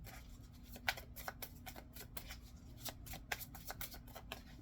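Tarot cards are shuffled by hand in a quiet room, producing a run of soft, irregular riffles and flicks with sharper snaps now and then, faint and close, with no speech.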